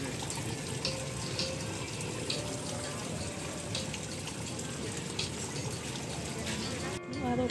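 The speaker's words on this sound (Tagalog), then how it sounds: "mayroong pang waterfalls" A small garden waterfall splashes and gushes steadily nearby, with people talking over it.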